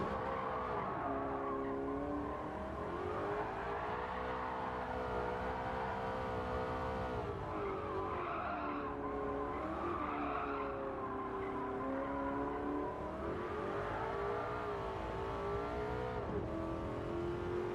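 A French Gordini race car in Gran Turismo 7 howls steadily at high revs, pitch rising and dipping through gear changes and corners, with tire squeal mixed in, continuous and moderately loud.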